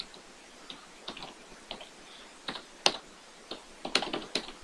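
Typing on a computer keyboard: irregular, close key clicks in small bursts with a few sharper, louder strikes, quiet and alone with no voices.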